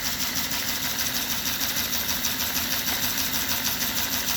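A small DC can motor driven by an MD135 motor driver under ESP32 control gives a steady, buzzing whine that stays even in pitch and loudness, close by, with no speech.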